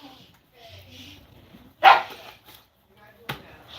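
A dog barks once loudly in a home kitchen, with a second sharper bark a bit later, over quiet background noise and faint voices.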